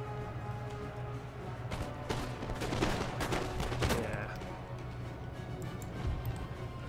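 Musket volleys crackle in a Napoleon: Total War battle, with scattered rippling shots and a denser burst of fire, distant and faint beneath a low ambient hum.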